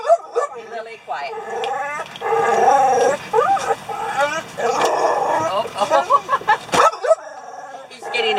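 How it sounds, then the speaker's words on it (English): Dogs inside a converted van used as a home on wheels give repeated close barks, yips and whimpers, overlapping with people talking nearby throughout. "There's another dog."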